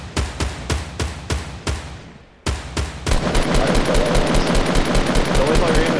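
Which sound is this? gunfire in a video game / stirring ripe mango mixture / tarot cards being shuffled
gunfire in a video game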